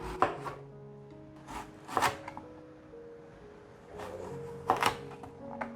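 A knife chopping yellow zucchini into strips and small cubes on a board, clusters of crisp close cuts separated by short pauses.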